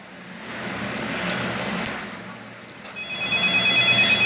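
A telephone in a Roblox night-shift horror game starts ringing partway through, with a steady repeating electronic ring rising over a low background hum.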